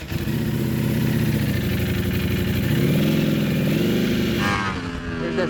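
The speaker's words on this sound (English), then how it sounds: "There's that second gear rip." A 2019 Ducati V4S motorcycle rips hard through second gear, its loud, close engine note rising steadily for about four and a half seconds before easing off near the end.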